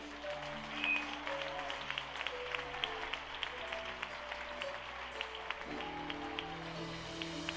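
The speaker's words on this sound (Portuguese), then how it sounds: "Aplauda Jesus, querido." Church congregation claps during a worship service, the soft, scattered applause sitting over sustained worship music at low volume throughout.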